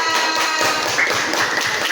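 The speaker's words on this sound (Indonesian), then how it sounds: "Tepuk tangan buat Mbak Mila" Applause for a presenter in a classroom, with a dense, steady patter of hand claps from a group filling the whole moment.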